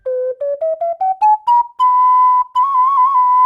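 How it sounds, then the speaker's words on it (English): A normal sized ocarina plays a rising run of short separate notes and then holds a long tone with a slight wobble, clear, loud and close, with no voices. "and this one has a much lower tone."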